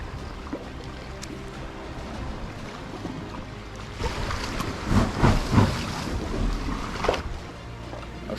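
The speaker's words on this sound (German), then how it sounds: "da schoss das Wasser hier noch von der Seite hier rein und da war da eine Durchgangshöhle" Atlantic sea water surges into a pass-through sea cave beside a kayak on the Arrábida cliffs near Sesimbra, Portugal, a rushing, sloshing swell that builds into loud pulses midway over a windy background.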